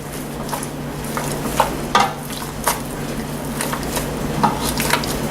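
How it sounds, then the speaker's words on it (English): Potatoes being mashed with a masher in a still-hot pan after sautéing, a steady frying sizzle with scraping and irregular clanks of metal against the pan, close and loud with no talking. "I'm going to go ahead and get my masher and start mashing these taters up a little bit"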